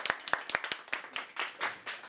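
A handful of people clap as a comedian comes on stage, sharp individual claps that start sparse and distinct, then thicken into quicker, overlapping clapping, close and fairly loud.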